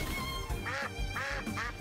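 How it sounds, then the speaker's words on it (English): Duck quacking from the creature sounds of the video game Temtem, three bursts of nasal quacks in quick succession over steady game background music. "those sounds are just duck sounds"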